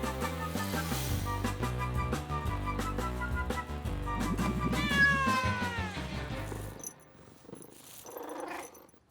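A cartoon cat from the animated series Hubert & Takako meows with a rising, sliding cry that rings out over busy background music. The music then thins near the end.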